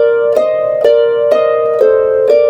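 A harp plays the intro of a piece, five evenly spaced plucked notes that ring and overlap, moving by step, close and clear with no voices.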